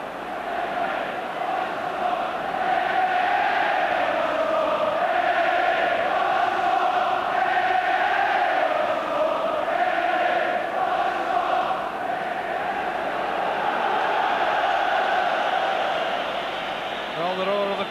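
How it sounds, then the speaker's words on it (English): A football crowd at a Rangers v Hearts match roars in a steady, loud, continuous swell, sustained and broad throughout with no breaks. "the roar of the crowd tells you what their reactions are to the Hearts keeper"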